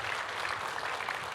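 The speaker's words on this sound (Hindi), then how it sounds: "तो एक बार रेख्ता के लिए ज़ोरदार तालियां।" Steady, dense applause from an audience at an Urdu poetry mushaira of women poets, a continuous wash of clapping filling the short moment at moderate, even loudness.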